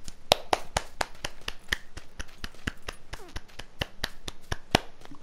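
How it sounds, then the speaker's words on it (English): A character claps in the game PUBG, about twenty sharp, crisp hand claps in a fast, fairly steady rhythm, close and clear with nothing else in the background. "that was me clapping"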